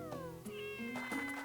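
A cat meows in the farming video game Story of Seasons: Friends of Mineral Town, a few short, clear, close meows in quick succession over quiet game background sound.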